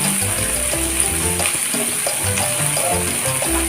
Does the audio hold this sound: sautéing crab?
yes